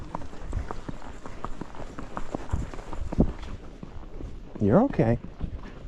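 A horse walks along a trail ride, its hooves thudding in an irregular clip-clop close by. A rider speaks softly over the steps.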